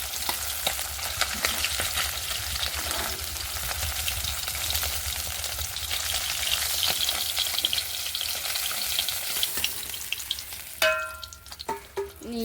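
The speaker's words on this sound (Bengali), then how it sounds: "আবার এই একই কড়াইতে আর যে মাছগুলো বাকি আছে ওই মাছগুলো ভাজার জন্য দিয়ে দেবো" Fish fry in hot oil in a kadai, giving a loud, steady sizzle close up that runs unbroken, then a brief clatter of utensils near the end, with no voices.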